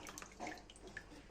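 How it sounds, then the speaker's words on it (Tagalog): Sauce being poured over a pan of paella marinera, a soft, close liquid splash and trickle lasting about a second with faint kitchen background. "Buhos lang natin dito sa ilalim."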